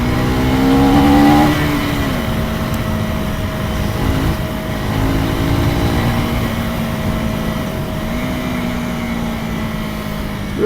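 A 2024 Husqvarna Svartpilen 401 motorcycle pulls along on the road, its single-cylinder engine droning steadily and revving up and down through gear changes under heavy wind rush, no talking.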